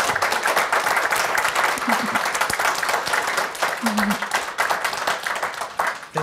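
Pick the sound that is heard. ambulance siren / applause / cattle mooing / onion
applause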